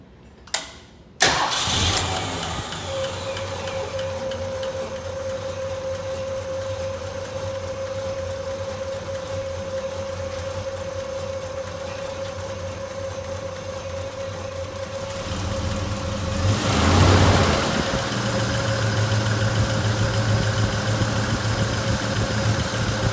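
A 1973 Mercury Cougar engine cranks and catches after a short click, then settles into a steady close idle with a brief louder rev partway through.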